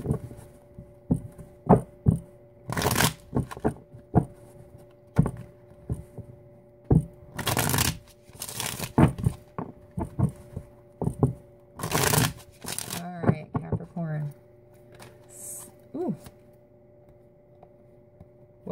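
Tarot cards riffled and shuffled in repeated bursts, each quick flurry of papery flicks separated by short pauses, close up and fairly loud.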